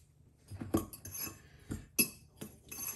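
A spoon clinks against a bowl while salt, brown sugar, cinnamon and cornstarch are stirred together for a raisin pie filling, giving a few quiet, irregular taps and scrapes close by.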